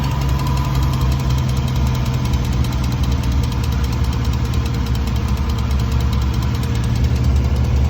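A 5.3 LT truck engine with a bad lifter idles steadily and loudly up close, a deep constant rumble with a faint rapid ticking running through it.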